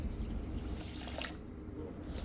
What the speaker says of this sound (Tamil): இப்போ தண்ணி சேர்ப்போம்.